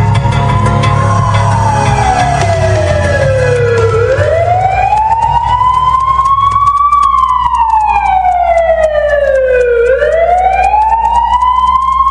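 A loud, close police car siren wails in long rising and falling sweeps over a low engine rumble, continuous throughout with no talking.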